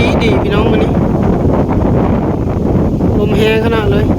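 Strong wind sweeping across an open field buffets the microphone in a steady, loud roaring rush that runs without a break, with a faint voice briefly audible beneath it.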